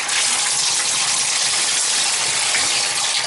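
A shower runs full in a summer home, a loud, steady hiss of gushing water with no breaks, close to the microphone.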